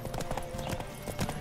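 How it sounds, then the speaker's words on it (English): Horse galloping in The Witcher 3, rapid rhythmic hoofbeats pounding up close and loud, with faint voices behind. "Don't spare the horse!"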